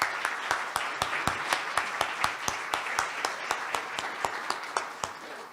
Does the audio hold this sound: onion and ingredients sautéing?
no